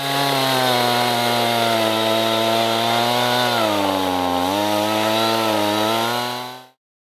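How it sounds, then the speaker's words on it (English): A chainsaw carving a wooden sculpture runs loud and close with a steady, rasping whine that dips briefly in pitch as it bites into wood, then cuts off abruptly. "I'm ready to paint with my chainsaw."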